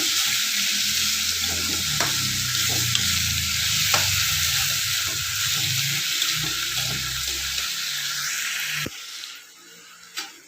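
Steady sizzling from a hot pan as green vegetables with salt are stirred and scraped for thoran, close and fairly loud, ending abruptly into quieter background.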